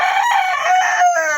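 A rooster crows loudly and close by, one drawn-out cock-a-doodle-doo with a wavering tail, standing out against faint farmyard background.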